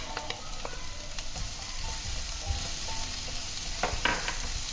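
Chopped onions and garlic sizzle in butter in a pan, a steady, close frying hiss with occasional crackles and the scrape of stirring, no voices over it.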